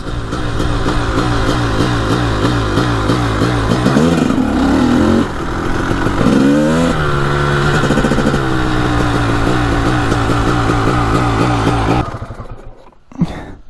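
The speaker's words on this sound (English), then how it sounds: "Alright, so that's the ride on the bike." A mint Honda CR250 two-stroke dirt bike ridden close by, its loud engine buzzing and revving with rising and falling pitch through gear changes, then dropping away near the end.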